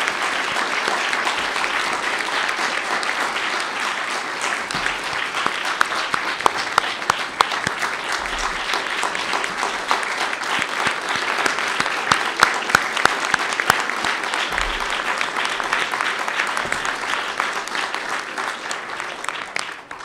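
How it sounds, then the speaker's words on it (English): Sustained applause from an audience at the National Press Club after a speech by NTSB chair Deborah Hersman, dense steady clapping from many hands lasting about twenty seconds, loud and even throughout. "How about a round of applause for our speaker?"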